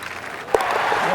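Applause from a golf gallery after an eagle putt in an EA Sports PGA game, a short burst of clapping and cheering that rises suddenly and holds steady.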